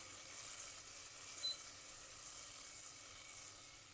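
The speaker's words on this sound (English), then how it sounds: "Just heat that through, let that melt." Butter, about 100 grams, melting in a pan over heat for a dal, giving a steady, faint hiss and gentle sizzle with no talk over it.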